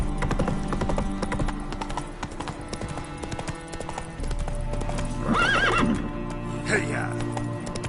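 Horse hooves clip-clop at a steady gallop in The Witcher, with a loud whinny partway through, all layered over game music and someone speaking.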